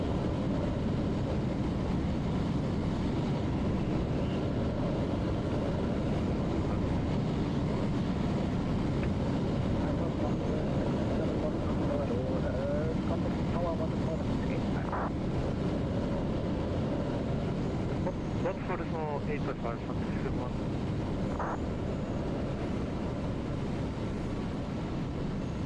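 Airliner going around at Frankfurt airport in Microsoft Flight Simulator 2020, a steady broadband engine roar holding at even loudness throughout, with a few faint tonal chirps in the middle and no talking.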